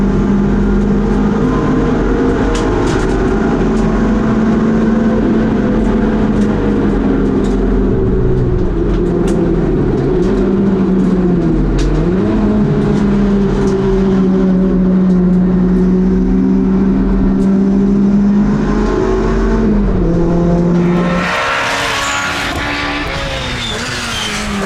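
A GT race car's engine drones loudly and steadily at Castle Combe circuit, its pitch rising and dipping through gear changes before easing off near the end.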